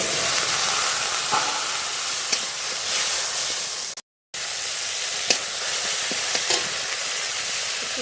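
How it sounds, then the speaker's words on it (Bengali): Cumin and green chili paste fry with a splash of water in a hot pan, giving a steady loud hiss and sizzle with occasional stirring scrapes and a brief dropout midway. "জিরে আর কাঁচা লঙ্কা বাটা দিয়ে দেবো একটু জল দিয়ে কষিয়ে নেব"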